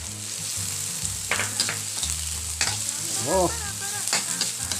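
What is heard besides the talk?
onion and ginger sautéing in a pan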